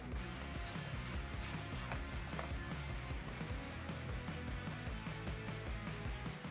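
A hex bit turns out the screws holding the stock turn signals on a Harley Street Glide, giving close, steady ratcheting and clicking with a few sharper metallic bursts early on and no talk.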